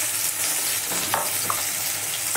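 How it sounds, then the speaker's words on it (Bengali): Cumin seeds and onion sputter in hot oil in a home kitchen, a close, continuous crackling sizzle broken by a few sharp pops and light stirring scrapes. "পেঁয়াজ ফোড়ন দিলাম"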